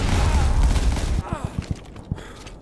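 Gunfire crackles in a World War 2 video game battle: a dense burst of shooting fades into several sharp separate shots, with a player talking over it.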